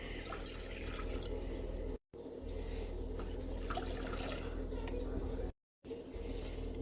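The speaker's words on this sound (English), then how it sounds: "Add 3 cups of water to that pot." Water pours steadily into a cooking pot as three cups are added for a gravy, a continuous soft splashing rush broken by two brief gaps.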